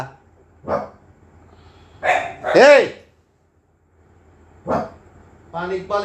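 Dogs bark nearby in a few loud, sharp, separate bursts with quiet gaps between them.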